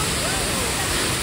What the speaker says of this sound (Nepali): यस्तो खतरा झरना रहेछ यार